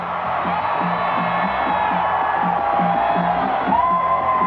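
A huge outdoor crowd at Grant Park in Chicago celebrating the Bulls' first championship, a dense continuous roar of cheers and whoops, heard from a distance with steady loudness.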